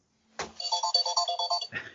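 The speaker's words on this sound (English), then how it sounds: "That's a strange phone call to have at this time of night." A phone ringtone plays close and clear, a quick run of bright electronic tones repeating in a bouncy pattern for a little over a second before starting again.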